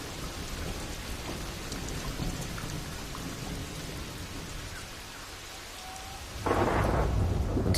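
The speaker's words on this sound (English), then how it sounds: "The daily deluge of rain is relentless." Heavy monsoon rain in Cambodia pours steadily with rumbling thunder, swelling into a louder, close downpour near the end.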